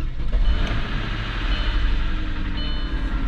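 A 20-year-old Audi S6, recently revived after sitting, runs with a steady low engine rumble at idle, close and fairly loud, with no voices over it.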